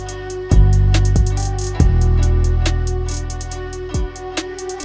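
A GarageBand drum beat plays on its own, with punchy deep kick hits and crisp hi-hats and snares in a steady electronic groove.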